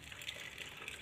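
Water runs steadily from a tap into a container while plants are watered, a faint, continuous splashing gush without talk.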